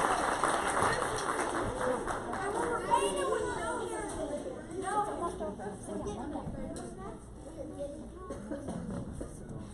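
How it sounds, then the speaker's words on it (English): A school spring concert audience claps and chatters after a band performance, with applause fading into murmuring voices and moving about in a large room, heard at a moderate distance. "Round of applause for you."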